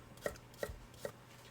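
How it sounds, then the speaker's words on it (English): A knife slicing trimmed asparagus thin on a bias against a cutting board, three soft, evenly spaced chops, close and quiet with no talk. "And I'll cut them at a nice bias angle, nice and thin."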